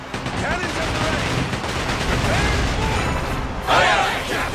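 Rapid bursts of ship cannon fire in the video game Like a Dragon: Pirate Yakuza in Hawaii, dense and loud booms, with a sharp blast near the end.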